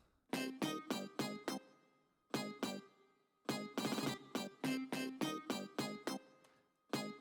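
A sampled instrument plays short, bright plucked notes in quick rhythmic bursts, separated by brief pauses, fairly quiet and alone.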